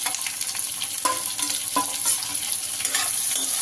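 Chopped onion hits hot oil already fried with cumin seeds and bay leaf and sizzles steadily up close, with a few scraping stirs of a spoon against the pan in an Indian home kitchen.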